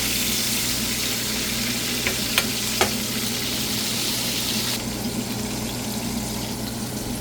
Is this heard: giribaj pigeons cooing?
no